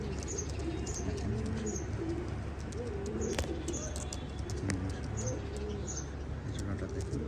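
Pakistani high-flyer pigeons coo in soft, low, repeated rolling calls under steady background noise, with occasional faint chirps and clicks.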